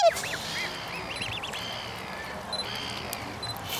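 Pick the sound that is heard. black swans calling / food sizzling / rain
black swans calling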